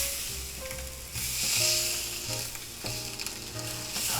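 Thick eye of round steak, cooked sous vide, sears in a hot cast iron skillet with a steady, loud sizzle and crackle that rises and falls slightly as the meat is moved, with no voices.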